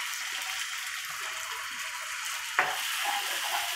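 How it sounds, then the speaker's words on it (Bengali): Spice paste for hilsa pulao sizzles and fries in a pan while being stirred, a steady hiss with a sharp clink of the spoon near the end. "নেড়ে চেড়ে আমাদের মশলাটা কষানো হয়ে গেছে"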